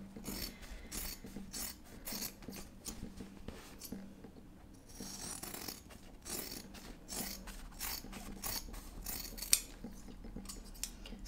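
Scissors snip repeatedly at fabric corners backed with interfacing, quiet crisp cuts in an irregular rhythm close by, with faint handling between snips.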